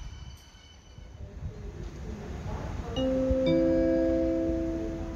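A train pulls into a platform at Freiburg main station, starting as a low rumble and growing louder as it nears, then steady squealing wheels and brakes ring out close by with no talk over it.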